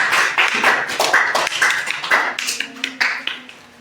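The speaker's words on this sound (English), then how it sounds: "clap for Yuraj" A class of students claps for a classmate, a burst of quick, uneven hand claps that is loud and close, thinning out toward the end.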